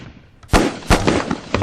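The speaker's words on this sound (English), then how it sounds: "Lee Enfield, they're rifles." Lee Enfield rifles firing in a World War video game, several sharp loud gunshot cracks in quick succession with echoing tails, close and alone.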